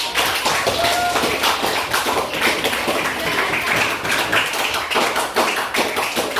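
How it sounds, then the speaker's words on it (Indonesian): A classroom full of junior high school students claps steadily, a dense crowd of hand claps with faint voices underneath, sustained and fairly close. "Sekarang tepuk tangan yang meriah untuk Saka."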